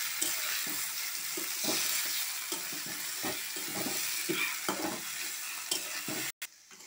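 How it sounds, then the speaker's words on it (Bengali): Ground pumpkin leaf paste fries in a pan with onion, a steady loud sizzle broken by repeated scraping strokes of stirring, with no talking. "এখন আমি এই যে কুমড়ো পাতা বাটাটা দিয়ে দেব।"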